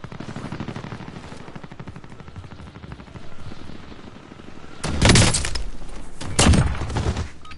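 Rapid automatic gunfire from Call of Duty Warzone, a steady rattling burst stream broken by two louder, heavier volleys near the end, no voices over it.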